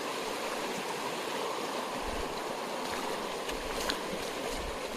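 River water flows over stones with a continuous, fairly loud broadband rush and burble, steady throughout and without voices.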